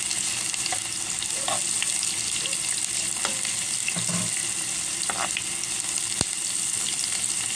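Onions sautéing in hot oil in a pan for chicken curry, giving a steady close sizzle throughout with occasional stirring scrapes and clinks, no talking.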